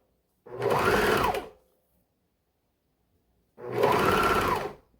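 Two short bursts of a sewing machine stitching around a doll romper through three fabric layers, each lasting about a second with a steady whirring hum and silence between them.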